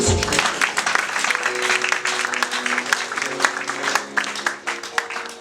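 A church congregation claps and cheers in praise during a sermon, a dense, sustained wash of applause with scattered sharper claps, fairly loud and close throughout.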